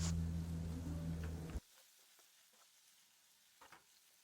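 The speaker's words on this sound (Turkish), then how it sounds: "Biberlerin üzerine tuz serpiyorum ve ölene kadar kavuruyorum." Salted peppers sauté in a pan with a loud, dense sizzle for about a second and a half, then it cuts off abruptly, leaving near-quiet with a few faint clicks and taps.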